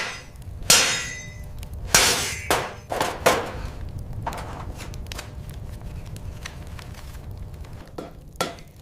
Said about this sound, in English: A smith hammers the metal over a kidney stake to create the complex compound curves of the human chest.